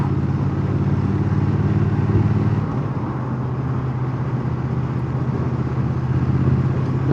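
A Triumph Speed Twin 900 modern classic motorcycle cruises on English country roads, its twin engine giving a steady, loud, close low drone with a slight pitch shift midway, mixed with wind rush.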